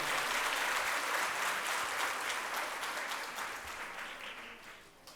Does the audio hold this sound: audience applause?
yes